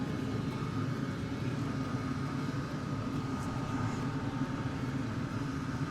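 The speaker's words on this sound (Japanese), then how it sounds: "まさに飛行機で種をまいてるということなんですが" Airplane engine drone over a freshly harvested soybean field in Brazil as seed is sown from the air, a steady broadband rumble that holds even and fairly faint throughout with no voices.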